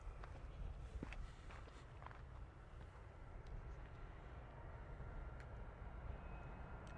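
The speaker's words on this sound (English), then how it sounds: "Another TUI Boeing 737 with that derated takeoff there, keeping it super low" A TUI Boeing 737 making a derated takeoff on runway 09 at Bristol Airport, heard as a steady, distant broadband jet rumble that holds evenly throughout, with no talk.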